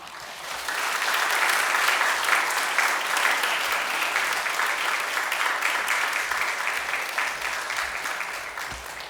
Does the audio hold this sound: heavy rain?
no